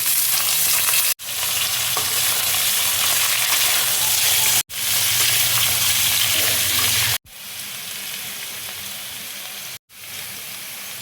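Potatoes fry in a pan for aloo chorchori with a loud, dense sizzle heard close up, broken by a few abrupt cuts and dropping somewhat softer in the later part.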